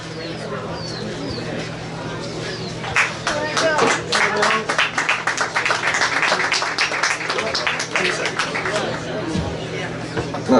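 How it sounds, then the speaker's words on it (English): An audience at a local candidate forum gives a brief, modest round of scattered clapping that swells for several seconds then fades, with voices talking around it. "Not quite the applause everyone else got."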